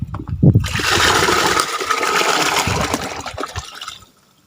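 Liquid kitchen waste is poured into a container for a rooftop terrace garden: a loud, steady gush of splashing liquid runs for about four seconds, then cuts off into silence.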